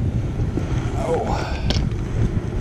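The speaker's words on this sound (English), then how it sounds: "Dang wind is trying to blow me now." Wind buffets the microphone on a small fishing boat during summer crappie fishing, a steady rumbling gust running throughout at close range.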